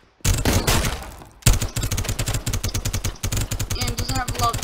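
Rapid gunfire from a weapon in the Roblox game Gun Testing, sounding as dense bursts of repeated shots that continue almost without a break and stay loud and close throughout.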